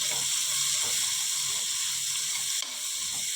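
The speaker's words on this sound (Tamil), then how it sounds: "2 பெரிய வெங்காயத்தை கட் பண்ணி வச்சுருக்கேன், அதையும் இதோடு சேர்த்துடலாம்" Two large chopped onions sizzling in hot oil for a chicken gravy, a steady close frying hiss throughout with faint stirring scrapes underneath.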